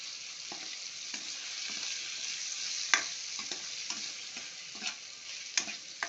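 Drumstick pods fry in oil in a pan for a tomato curry, a steady close sizzle with light scraping and tapping from a spoon as they are stirred at irregular intervals.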